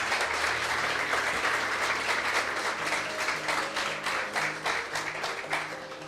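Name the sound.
audience applause and clapping for Jesus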